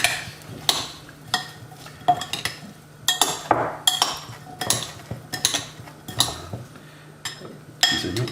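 A spoon or utensil scrapes and clinks against a dish while baked feta ingredients are mixed, in irregular close bursts of stirring and tapping separated by short quiet gaps.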